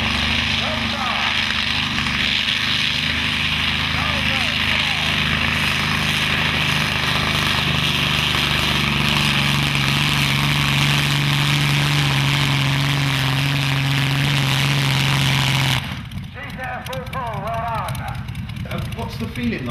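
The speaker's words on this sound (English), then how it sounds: "The roar of the engine just gets you really sort of excited" A pulling tractor's engine roars loud and close, a sustained heavy drone with a steady low tone that cuts off abruptly near the end, leaving quieter background sounds.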